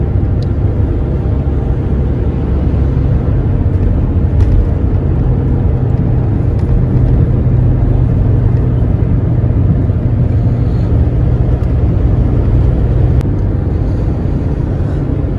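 Road traffic builds near a toll plaza on a highway drive toward Pehowa, Haryana, heard as a loud, continuous engine and tyre rumble with no break and no speech.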